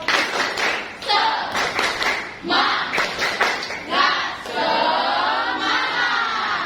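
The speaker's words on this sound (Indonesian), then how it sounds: "Tepuk semangat." A school class performs a rhythmic spirit clap, rapid bursts of hand claps and thumps mixed with shouted voices, ending in sustained cheering and noise.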